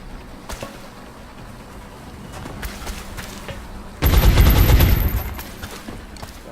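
Gunfire in the XCOM: Enemy Within video game, a sudden loud burst of rapid automatic shots that lasts about a second and a half, after several quieter scattered pops and game sounds.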